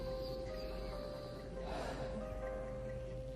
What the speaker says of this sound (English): I can hear you breathing, my friend.